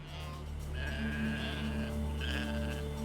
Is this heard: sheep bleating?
yes